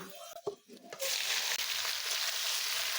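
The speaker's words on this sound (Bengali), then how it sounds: "কুলগুলো এইভাবে আমি পাঁচ সাত মিনিট বারবার নাড়াচাড়া করে ভাজা করে নেব" Jujube berries hit hot oil spiced with panch phoron and dried red chilli, a few soft clinks and stirs giving way to a loud, steady sizzle of frying in the pan.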